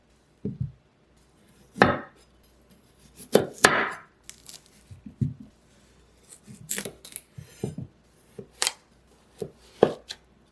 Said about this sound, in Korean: 샐러리는 작은 크기로 썰어 냄비에 넣으시고요.